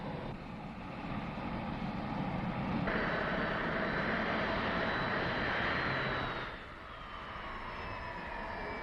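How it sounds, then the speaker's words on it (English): Four aircraft engines run up together at matched throttle settings, a loud, steady broadband roar with a whining tone that swells around the third second, holds, then eases back near the end. "Then run up and trimmed, equalized thrust from all four engines at identical throttle settings."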